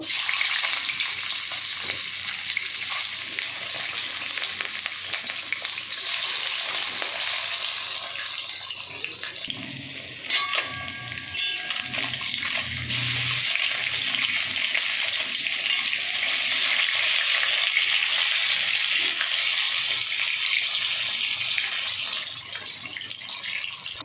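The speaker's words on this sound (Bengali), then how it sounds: "তেল দিয়ে দিয়েছি, মাছগুলো ভেজে নেব।" Fish sizzles and spatters steadily in hot cooking oil, a loud continuous frying hiss with a brief clatter of stirring midway.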